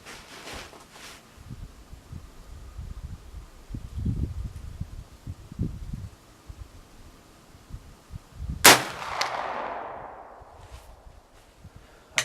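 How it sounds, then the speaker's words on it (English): A US Model 1884 Trapdoor Springfield rifle fires one loud, sharp shot outdoors late in the clip; the report rings and decays over the next seconds, after quieter handling and rustling. "we're going to shoot the rest of this off first"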